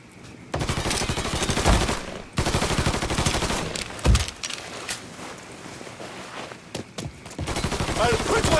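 Bursts of automatic gunfire in the Mafia III video game, rapid fusillades of shots in several volleys with short pauses between them, loud and close, with voices shouting over the shooting.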